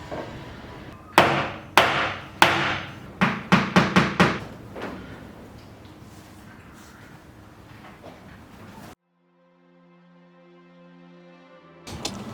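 Hammer blows drive nails to hang a black flag above a fuse box during a home gym build, about a dozen loud, sharp strikes in quick bursts, then quiet.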